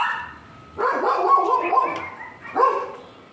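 Dogs barking in two bursts, a longer run of overlapping barks and yips followed by a shorter bark after a pause, fairly close and loud over a quiet background.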